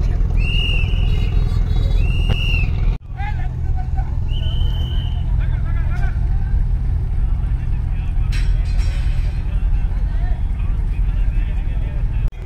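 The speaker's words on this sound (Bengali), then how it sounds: "এই সিটেই ঘাট দিতে যাচ্ছে অ্যাডভেঞ্চার 9 লঞ্চ" Engine of the Adventure 9 passenger launch ferry docking at a river ghat, a loud continuous low rumble under someone talking, with horn-like tones and crowd noise around.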